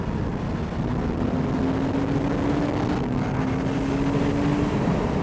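Interior drone of a Porsche 911 997.2 Carrera 4S cruising in third gear at about 61 mph, a steady engine tone slowly climbing under dense road and wind roar, constant and moderately loud.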